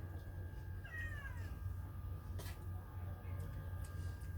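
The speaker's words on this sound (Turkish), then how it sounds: "O başkasına miyavlıyor herhalde bize değil." A cat meows once, briefly and fairly close, in a home kitchen while a wood stove hums under a steady low background noise.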